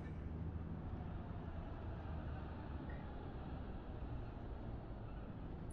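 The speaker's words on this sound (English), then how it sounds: "Train." Steady, low rumbling of a passing train in the video game Lacuna, a continuous even roar with no pauses or talk, holding constant volume throughout.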